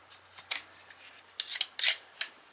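Excess glue is cut away from a repaired fragile accessory with a handful of crisp, separate snipping sounds, close and clear, spaced unevenly with quiet between them.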